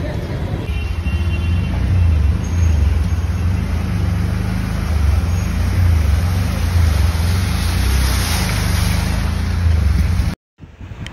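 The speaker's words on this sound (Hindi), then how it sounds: "तो इसलिए ऑटो रिक्शा से जा रहे हैं" An auto rickshaw drives through heavy rain in Bikaner, Rajasthan, its engine rumble steady and close beneath a constant broadband hiss of rain and spray, running without a break until it cuts out abruptly near the end.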